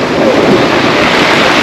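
Sea waves break and churn at the mouth of the Psezuapse river at Lazarevskoye, Sochi, a loud continuous roar of surf close by, with wind rumbling across the microphone.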